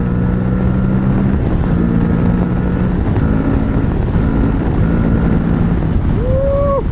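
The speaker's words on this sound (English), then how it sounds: "try to listen to the sound of this exhaust" An Aprilia Tuareg 660 motorcycle exhaust drones steadily while riding, engine tones rising and falling under heavy wind rush, with a brief high whine near the end.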